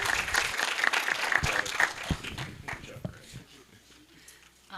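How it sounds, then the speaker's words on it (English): A breakfast-event audience applauds a speaker and panel after a talk on AI in the workforce; brisk clapping starts loud, then thins out and fades, with a few scattered claps and faint voices near the end. "Let's give Brad a round of applause."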